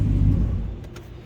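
A 2013 BMW Alpina B7 long-wheelbase sedan's engine rumbles loud and close, then dies away as it is switched off, the low drone fading over about a second.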